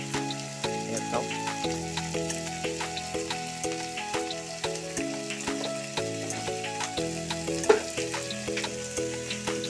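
Potatoes fry in a pan with a steady close sizzle and light crackle, heard under music with a pulsing rhythm.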